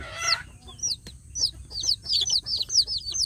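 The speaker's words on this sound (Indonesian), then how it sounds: "Ini yang anak-anak yang kecil ini anak-anak yang baru menetas ya sedulur" Newly hatched Indonesian village chicks (anak ayam kampung) peep in rapid high-pitched chirps, several overlapping close by in a quiet setting, with a brief clucking call at the start.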